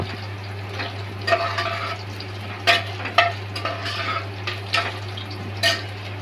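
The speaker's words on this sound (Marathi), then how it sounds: "लसणीच्या पाकळ्या टाकते चॉप केलेल्या। चांगलं परतून घ्यायचंय।" Chopped garlic cloves sauté in a pan for dal khichdi, a steady sizzle under a constant low stove hum, with several sharp scrapes and clinks of a spoon stirring against the pan.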